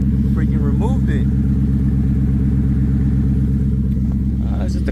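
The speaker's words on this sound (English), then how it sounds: "It's just a classic exhaust sound fix." A Ford Mustang GT with the exhaust removed idles with a loud, steady, deep throbbing rumble, close by and unbroken for the whole stretch, while someone talks over it.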